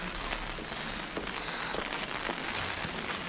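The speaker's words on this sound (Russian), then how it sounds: "Сейчас идет дождик, поэтому здесь сегодня поменьше народу." Light rain pattering steadily on an old cobbled street in Bremen, a soft, even hiss with scattered drops and no voices over it.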